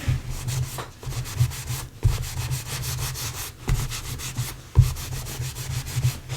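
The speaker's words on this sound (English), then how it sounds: "we'll just give it a gentle rub down to make sure it's as clean as it can be" Cloth rubbing against the cover of a vintage paperback book, a steady back-and-forth scrubbing in repeated strokes, close and fairly loud with no talking.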